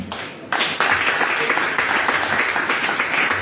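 A standing congregation applauds and cheers at a church service, a dense, steady wash of clapping close by that swells after a brief quieter start and holds loud throughout.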